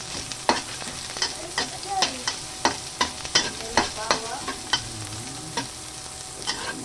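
Garlic and ginger sautéing in a pan, a steady sizzle broken by repeated sharp scrapes and clacks of stirring at a quick, uneven rhythm, close and with no talk.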